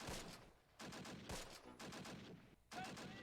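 Machine gun fire in Close Combat: Panthers In The Fog, during a US campaign battle of Operation Lüttich, as several loud bursts of rapid shots with short gaps between them and no talk over them.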